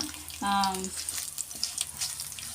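Dry red chillies frying in hot oil for mango pickle, a soft continuous sizzle with light scraping stirs, close and steady, with a brief tonal beep early on.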